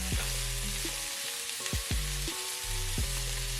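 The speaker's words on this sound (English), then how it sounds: "This is after 2 minutes of stir frying." Onions and bell peppers for chicken fajitas stir-fry in a hot pan with a steady, continuous sizzle, punctuated by several sharp scrapes and clatters of stirring.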